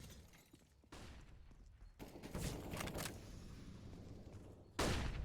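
Bursts of gunfire from a Counter-Strike match on the Inferno map at an ESL Challenger event, several sharp volleys separated by pauses, with the last burst the loudest; no talking.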